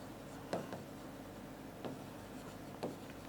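Pen writing on paper during a geometry lesson: three short, faint scratchy strokes spaced about a second apart, quiet and close, with no talking.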